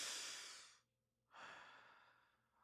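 A slow, deep breath: a long airy inhale, a brief pause, then a long soft exhale, close and quiet with no other sound.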